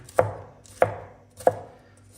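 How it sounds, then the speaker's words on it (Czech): A knife chops bell peppers into strips on a board, three sharp, evenly spaced thuds about two-thirds of a second apart, close and clear with no talking. "No a teď si tady nakrájím, mám tady připravené papriky."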